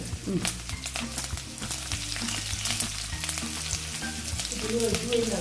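Ginger, garlic and curry leaves dropped into hot oil with fenugreek in a frying pan for a fish curry, a loud, dense, continuous sizzle with stirring clatter, heard up close.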